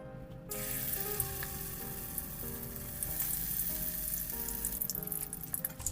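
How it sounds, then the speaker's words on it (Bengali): Poppy seed fritters for a Bengali vegetarian curry crackle and sizzle in hot oil, a dense, steady close-up frying hiss that swells slightly as more batter drops in. "তেল গরম হয়ে গেছে এবার বড়াগুলো আমি এক এক করে ছাড়বো তেলে"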